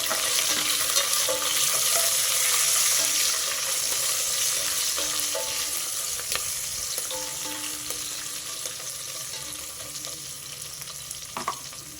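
Green chillies frying in a pan of browned onions, a steady close sizzle with occasional scraping stirs and clinks, no voices.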